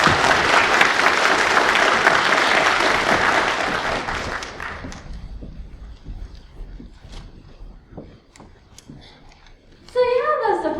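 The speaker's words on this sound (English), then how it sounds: "Please welcome Emma with a big round of applause" A big round of applause from an audience welcoming a speaker at a school speech night, loud at first and then thinning into scattered claps before fading, with a voice starting at the very end.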